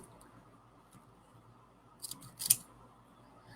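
Scissors snipping through fabric ruffles, a couple of quick close cuts standing out briefly against a quiet room.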